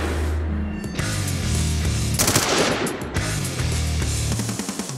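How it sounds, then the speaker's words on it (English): A Heckler & Koch HK417 battle rifle fires loud, close shots in quick succession, each crack followed by a short echo. "When I fire this round, I'm sure that it'll do the job."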